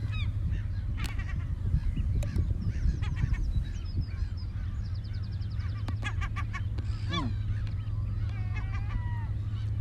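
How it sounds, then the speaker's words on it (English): Seagulls calling outdoors, a mix of honking, squawking cries overlapping and repeating throughout, some near and some farther off, over a steady low background hum. "Now we're getting the seagulls."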